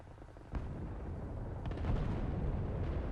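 A tank cannon fires once in a War Thunder night battle, a sudden heavy blast followed by a rumbling, booming tail and a second swell of low noise.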